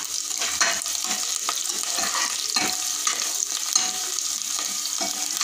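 Mustard seeds, cumin and curry leaves sizzle steadily in hot oil for a dal khichdi tempering, with a continuous bright frying hiss and scattered small pops and crackles throughout.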